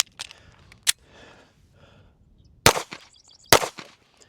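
Pistol shots fired during a moving shooting drill: three sharp, loud cracks spaced about a second apart, the first followed by a quieter pop, each trailing a brief echo over a quiet background.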